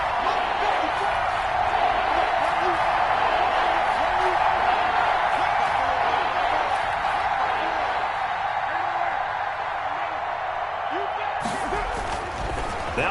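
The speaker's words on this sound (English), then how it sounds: "the crowd getting into it as we come up on a big 3rd down" A football stadium crowd building in a steady, loud roar ahead of a big third down, a broad sustained rumble of many voices with scattered shouts throughout.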